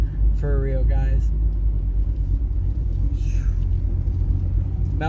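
A 1000HP ProCharged Chevrolet Camaro SS pulls hard from inside the car, its deep engine rumble loud and constant throughout, while a voice speaks briefly near the start.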